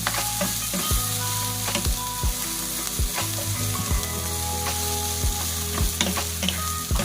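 Onions and tomatoes sauté in a hot pan with a continuous sizzle, while a utensil strikes and scrapes the pan in a regular rhythm of knocks about every second. No voices are heard.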